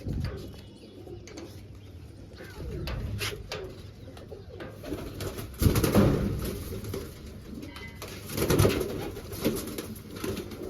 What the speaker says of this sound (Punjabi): ਆ ਦੇਖੋ ਇਹ ਕਬੂਤਰੀ ਆਪਣੀ